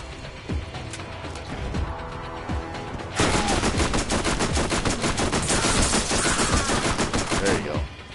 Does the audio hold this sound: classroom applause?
no